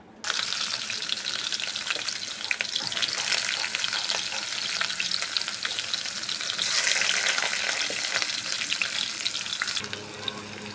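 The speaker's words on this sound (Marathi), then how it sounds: "आता आपण कारले तेलात फ्राय करून घेऊ।" Bitter gourd pieces fry in hot oil with a steady, dense sizzle that holds loud and constant throughout, with faint scraping of stirring mixed in and no talking.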